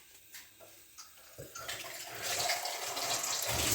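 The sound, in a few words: water poured into a pot for making tea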